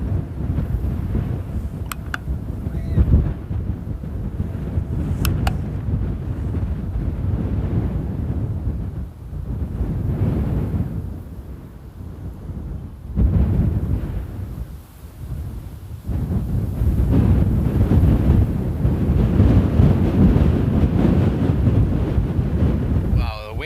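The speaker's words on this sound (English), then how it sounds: "The winds are still pretty strong." Strong wind at Amsterdam airport, heavy gusts buffeting the microphone in loud low roaring waves that ease and surge again, with brief quieter lulls between gusts.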